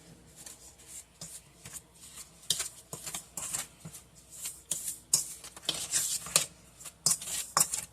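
Crumbly streusel topping for blueberry muffins is mixed in a bowl, with rhythmic scraping and clinking strokes that grow busier and louder toward the end.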